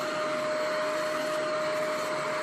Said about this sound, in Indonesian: Ketika teman-teman memulai menggunakan vacuum cleanernya